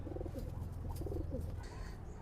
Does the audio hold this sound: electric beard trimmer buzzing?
no